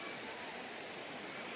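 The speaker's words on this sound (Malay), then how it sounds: "Sungai ni arus dia tak berapa laju walaupun" A river current flows at a campsite in Kampung Padang Stang, Gerik, Perak, just after rain. It makes a soft, steady, even rush of water with no other sounds.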